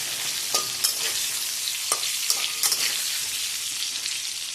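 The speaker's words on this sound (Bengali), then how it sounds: "এখানে আলুগুলো একটু লাল করে ভেজে নেবো, এই তেলেতেই পুরো চিকেনটা করবো" Potatoes fry in hot oil, set to be browned before chicken is cooked in the same oil, giving a steady hissing sizzle with a few sharp clicks and scrapes of stirring, close and without speech.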